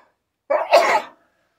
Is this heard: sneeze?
yes